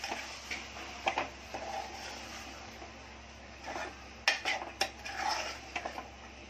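Cluster beans (guar) are stirred in a pan, with intermittent metallic scrapes and clinks in short bursts over a low background hum, close and fairly quiet, no talking.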